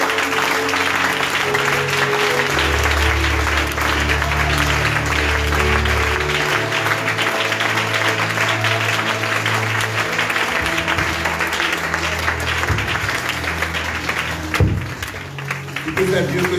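A church congregation applauds loudly and continuously, a dense sustained roll of clapping with voices calling out, while music plays underneath and a preacher speaks over it.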